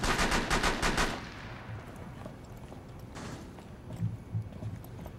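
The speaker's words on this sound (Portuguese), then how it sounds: "Eu vou gastar todas as minhas balas só fazendo buraco." Rapid automatic gunfire in Rainbow Six Siege, a loud burst of closely spaced shots lasting about a second, followed by quieter in-game rumble and scattered thumps.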